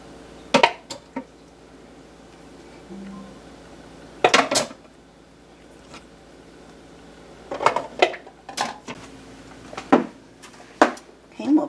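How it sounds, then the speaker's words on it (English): Glass canning jars clinking as they are set down into a Nesco electric canner, several sharp clustered knocks spread out with a quiet voice in between. "now we'll just set these right down in the canner"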